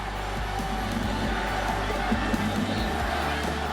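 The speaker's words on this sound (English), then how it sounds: "Hirokazu Ibata singles him home, bringing the crowd to their feet" A baseball stadium crowd at the 2013 World Baseball Classic rises in a loud, sustained cheer after a run-scoring single, a dense roar of many voices with scattered shouts and whoops.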